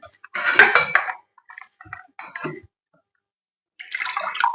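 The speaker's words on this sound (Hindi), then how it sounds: "थोड़ा सा पानी पी लेती हूँ बेटे।" A woman teacher pauses mid-lecture to sip a little water, giving soft sips, small clinks and watery handling sounds in short bursts separated by quiet gaps, close and fairly faint.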